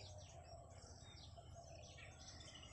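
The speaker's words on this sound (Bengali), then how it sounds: "এখানে এসে শুধু পাখির আওয়াজ কত রকমের পাখি দেখতে পাই" Faint, distant birds of many kinds chirp and tweet repeatedly over a low steady background hum, with no one speaking.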